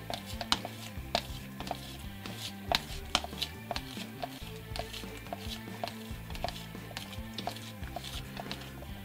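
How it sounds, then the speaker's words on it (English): Urethane rubber being stirred with a stick in a pot, the stick scraping and knocking against the pot's sides in a steady stream of close, quick clicks and scrapes for the whole stretch. "I'm gonna give this a good mix, making sure to scrape the side of the pot as well"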